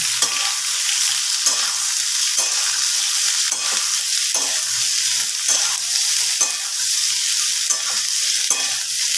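Soaked, squeezed soybean chunks fry in oil in a pan, a loud close sizzle broken by regular bursts of stirring, roughly every second, as a spatula scrapes and tosses them.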